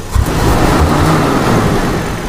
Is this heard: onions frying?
no